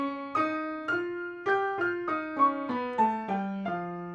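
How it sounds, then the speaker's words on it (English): Eight evenly spaced notes of a whole tone scale stepping downward on a pitched instrument, each struck cleanly and ringing briefly, alone with no voices. "And if I continued with the whole tone scale, it would sound like this."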